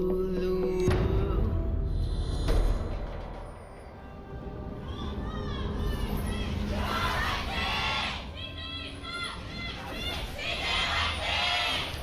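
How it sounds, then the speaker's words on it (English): A large esports crowd at a League of Legends match between SK Telecom T1 and CJ Entus cheers and shouts in waves, with loud overlapping voices rising and falling across the arena. "Both sides of the audience completely split down the middle, cheering for their teams"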